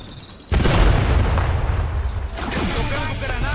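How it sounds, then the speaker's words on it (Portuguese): A concussion grenade goes off in Call of Duty with a sudden loud boom, followed by a long rumbling roar that slowly fades. "Jogando granada de percussão."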